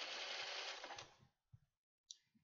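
A home sewing machine stitching a dress seam runs in a fast, steady hum for about a second and a half, then stops, leaving only faint clicks and handling noises.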